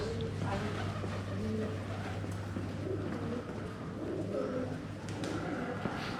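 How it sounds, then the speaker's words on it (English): Pigeons coo softly amid a busy outdoor scene in Bari's old town, Italy, with distant voices and a steady low hum of traffic in the background. "Pigeons."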